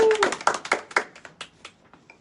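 A lecture audience welcomes a speaker with short applause: a brief burst of scattered hand claps that starts fairly strong and quickly thins and fades within two seconds.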